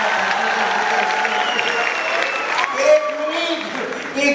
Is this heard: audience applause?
yes